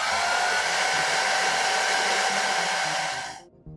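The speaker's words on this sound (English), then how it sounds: "So I'm going to break out my handy dandy hair dryer" A hair dryer blows steadily to dry paint on a Battletech miniature terrain base, a loud, even whir that runs alone and then cuts off abruptly at the end.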